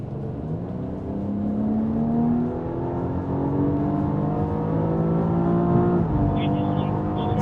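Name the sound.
BMW X4M Competition driven hard on a lap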